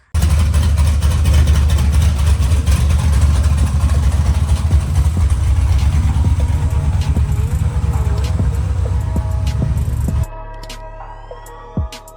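A powerful LS V8 engine in a Mustang idles loudly with a deep, lumpy exhaust rumble and occasional revs, then cuts to a quieter steady hum near the end.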